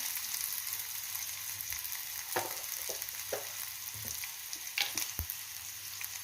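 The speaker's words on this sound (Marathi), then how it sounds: "कांदा तांबूस होऊ दे कांदा किंचित तांबूस झालेला आहे" Chopped onion sautéing in a pan for a spicy tender-coconut bhaji, a steady low sizzle with occasional utensil scrapes and clicks as it is stirred.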